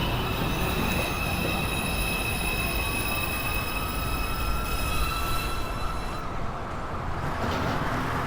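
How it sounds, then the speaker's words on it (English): New York subway 2 train at the 207th Street station, a loud continuous rumble of wheels on rails with high sustained wheel squeals ringing over it, close and steady throughout. "This is a Manhattan-bound 2 train."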